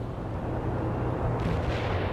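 Incoming artillery fire in the video game World in Conflict, a dense, continuous low rumble of distant shelling and explosions that stays loud throughout with no breaks.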